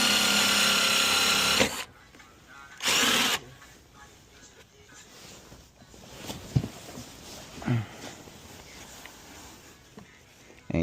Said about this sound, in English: I'm just going and pre-drilling the holes before I go back and make them wilder